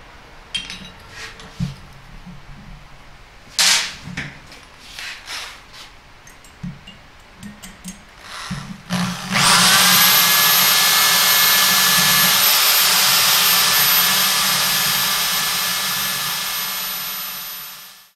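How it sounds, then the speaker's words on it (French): A drill bores holes through the heads of two bolts clamped in a safety wire drill fixture, its loud, steady motor whine starting partway in and running to the end after a stretch of quiet clicks and handling. "on a percé les têtes des deux boulons"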